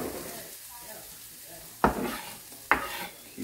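Chopped onion hitting a hot oiled skillet for steak nachos, with two sharp bursts of sizzle over a low steady frying hiss, close and fairly loud.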